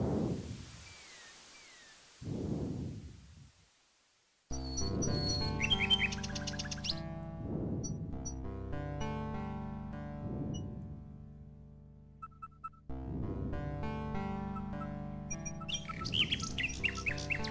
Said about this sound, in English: The nightingale takes the rose and heads for the castle once more.